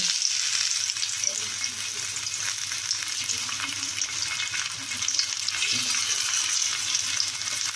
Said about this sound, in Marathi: या पद्धतीने सर्वच वड्या तळून घेते